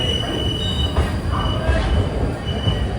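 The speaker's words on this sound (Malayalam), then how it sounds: "കറക്റ്റ് 11 മണിക്ക് തന്നെ ട്രെയിൻ ഇതാ എടുത്തിരിക്കുകയാണ്" An AC express train pulls out on its route from Chennai toward Erode, its wheels squealing on the rails over a loud, steady rumble close by.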